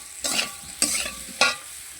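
Pulao ingredients frying in a pan, with salt just added, as three sharp stirring strokes rasp over a soft, steady sizzle at close range.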